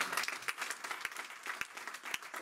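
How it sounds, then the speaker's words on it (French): A church congregation applauds with dense, steady clapping that carries a few sharper individual claps, fairly loud and filling the space, with no speech on top. "Donnez une main d'acclamation au Seigneur."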